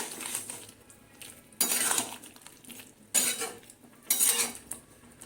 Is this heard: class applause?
no